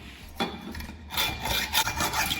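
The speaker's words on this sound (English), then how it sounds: "I'm gonna have my hacksaw and I'm gonna cut that off." Hacksaw cutting through a piece clamped in a vise, a few close, rasping strokes that start after a brief pause and speed into an uneven back-and-forth rhythm.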